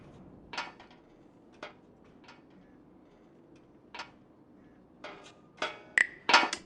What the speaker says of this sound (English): I might be able to pry it loose with my hands.